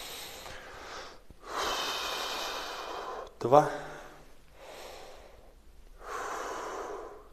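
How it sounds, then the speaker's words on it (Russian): Slow diaphragmatic belly breaths during a gentle exercise for lowering high blood pressure, with audible inhales and exhales alternating alone, a sharp snort-like intake midway and a brief counting voice. "руки положили на живот и подышим животом"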